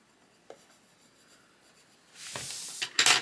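An orange coloured pencil scratches over paper, quiet at first with a soft tap near the start, then a brisk run of close shading strokes in the last second or so, with no talking.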